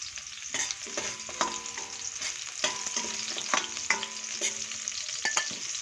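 Bopis with chili, onion, garlic and carrots sautéing in hot oil: a steady close sizzle broken by repeated sharp scraping clicks of a utensil stirring against the pan, no voices.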